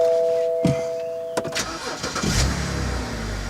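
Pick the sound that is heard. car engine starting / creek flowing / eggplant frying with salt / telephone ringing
car engine starting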